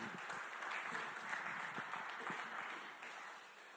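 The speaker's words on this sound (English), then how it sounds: "let's hear a round of applause for Tom" An audience claps steadily for Tom Clark as he is welcomed onto the stage at a sport-for-development event, a dense sustained applause that tapers slightly near the end.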